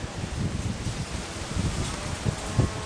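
Steady low rumbling buffeting of wind hitting a microphone, with soft rustling crackle throughout and a few stronger gusts near the end.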